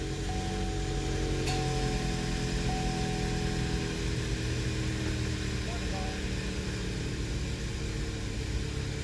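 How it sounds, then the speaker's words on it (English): A 2011 Chevrolet Equinox engine runs at a steady idle after an oil and filter change, a constant mid-pitched hum with a faint whine throughout and no speech. "pump the gas pedal 3 times and then start it"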